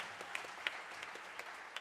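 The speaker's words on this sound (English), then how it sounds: "How about one more round of applause for our soloists, Bradley, Gabe, and Nick." Faint, distant audience applause for steel band soloists at a high school steel fest, a thin steady patter of many hands with a few sharper claps standing out.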